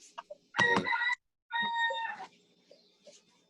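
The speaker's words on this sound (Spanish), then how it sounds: "Oye, tú tienes mucho gallo ahí." A rooster crows twice nearby in two drawn-out, strained calls separated by a brief pause, followed by faint clucks and chirps in the background during an online phonetics class.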